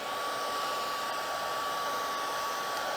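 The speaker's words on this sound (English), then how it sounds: "hair dryer is definitely the way to go" A hair dryer on high heat, used to reshape a paintball goggle, blows with a constant, close, whooshing hiss that stays level from start to finish with no other sound.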